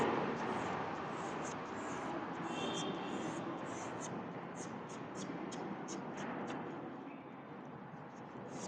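Pencil or pen drawing a sugar cane on paper, a steady scratchy scribbling that runs continuously and close up, with no talking.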